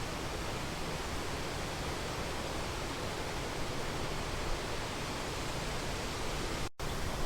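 Rhine Falls near Schaffhausen, Switzerland, Europe's largest waterfall, a dense, steady roar of falling water that stays loud and unbroken throughout, with only a brief dropout near the end.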